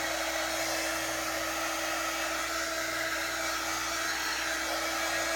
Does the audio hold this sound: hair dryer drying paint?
yes